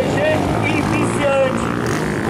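CG motorcycles racing in a velocross event at Paraú, RN, whine past with brief rising engine pitches beneath an announcer's excited commentary.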